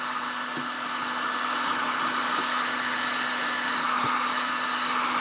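A heat gun blows hot air onto a jar, giving a steady, close, loud whooshing roar with a constant electrical hum that runs unbroken from start to finish, with no talking.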